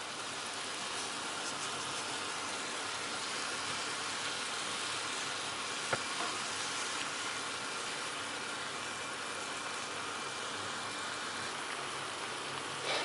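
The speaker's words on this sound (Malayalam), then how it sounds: "തിളച്ചു തുടങ്ങിയിട്ടുണ്ട്." Breadfruit curry with turmeric and chili boils in a pan, giving a continuous, even bubbling hiss that stays steady throughout, close by with no voices.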